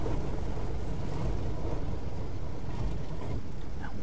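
A P-51 Mustang engine idles steadily in DCS with the canopy shut, a muffled, even low rumble with airy wind-like hiss running continuously throughout.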